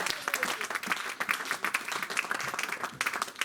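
A church congregation bursts into sustained applause and cheering during a sermon, a dense, loud wash of many hands clapping steadily throughout with scattered voices mixed in.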